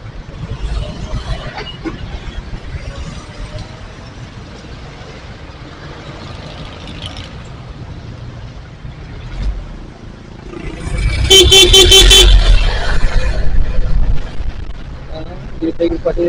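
Roadside traffic on a national highway in the Philippines, a steady wash of passing vehicles under ongoing talk, with a louder burst of engine roar and honking partway through.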